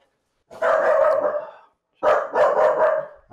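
A dog indoors gives a few loud, close barks in two quick bursts, with short silences between them.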